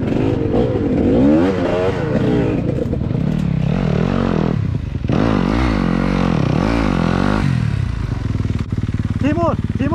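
An enduro motorcycle in a rocky creek bed revs hard and steadily, its engine rising and falling in loud surges, with clattering and scraping as people talk close by.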